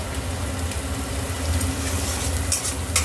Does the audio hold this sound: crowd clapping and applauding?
no